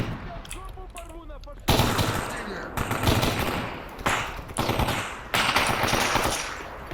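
Machine gun fire in the video game Stalker Anomaly, sharp loud bursts of rapid automatic shots in several separate volleys, close and dominant, after a short stretch of quieter game sound.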